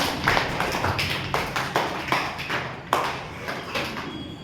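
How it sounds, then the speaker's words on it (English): Children in a spoken English classroom clap for a classmate, giving scattered, uneven taps and claps at close to moderate distance over a murmuring room. "Give a clap to Ali."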